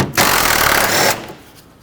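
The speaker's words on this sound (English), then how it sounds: "10mm socket, remove this bolt." A tool on a 10mm socket spins out a bolt holding the coolant overflow tank on a Chevrolet Express van. It gives one loud, close whirring burst of about a second, then fades to quiet.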